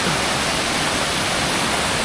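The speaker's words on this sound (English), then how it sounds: "Look at that waterfall coming off the hill from another normal creek," Rain-swollen creek water pours off a West Virginia hillside as a waterfall, a constant, full roar of rushing water close by with no break or change across its short span.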